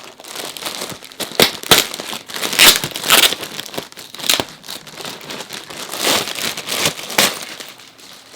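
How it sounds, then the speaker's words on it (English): Plastic packaging crinkles and tears as it is pulled off two Amazon-delivered items, a colored pencil case among them, in a run of close, loud bursts of crackling and rustling with short pauses between. "let me get this beautiful packaging off"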